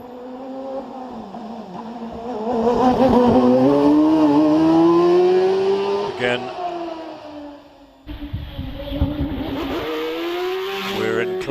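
Empire racing car, a precursor to the Evo, climbing the hill at Prescott, its engine revving and rising through the gears before easing off and pulling away again, while a commentator talks over it.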